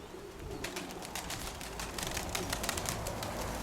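A white dove coos softly near the nest, with a few low calls and light rustling over quiet background noise, no voices present.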